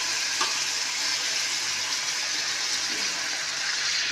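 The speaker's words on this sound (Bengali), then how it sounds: "জল দিয়ে দিলাম।" Water pours into a pot of thin morola fish curry cooking with potatoes and drumsticks, making a steady close rushing hiss that holds evenly throughout, with no talking.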